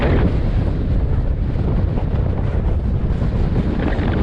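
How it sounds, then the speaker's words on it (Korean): Strong wind on the high Pamir plateau, heard while cycling. It roars and buffets hard against the microphone as a loud, unbroken rush with no voices. "바람 봐요 바람."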